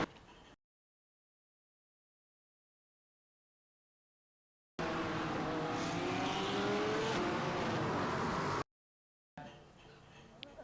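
GT3 race cars at Fuji in the sim racing game iRacing, a dense pack of about seven cars running close together, engines roaring loudly for a few seconds between stretches of silence, with faint talk at the edges.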